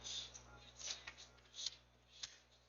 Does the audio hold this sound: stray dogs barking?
no